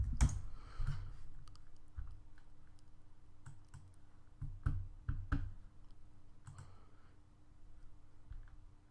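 Scattered clicks of a computer keyboard being typed on, faint and irregular, with a few louder taps among softer ones against a quiet background hum.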